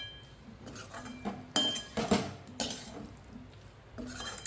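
Pieces of sweet potato being stirred in a pan over low heat, with a few sharp clinks of a utensil against the metal amid a faint sizzle.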